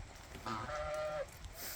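A grey goose on a farm with turkeys gives one faint, drawn-out honk, heard alone at a distance.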